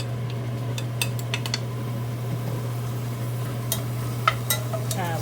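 Beef stir-frying in a pan, with scattered scraping and clinking strokes of a utensil over a steady sizzle and a low constant hum; no talk.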